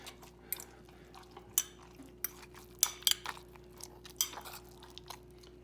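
Warm mozzarella curds being mixed with salt in a bowl, heard as close, irregular clinks and scrapes of a utensil against the dish, with a few sharper knocks spread over several seconds and a steady low hum underneath.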